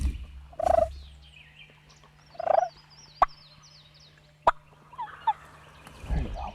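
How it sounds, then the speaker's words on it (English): Wild Osceola turkeys gobble at a distance in the woods, several rolling gobbles spaced a few seconds apart over quiet background birdsong and a low steady hum. "There's gobbles."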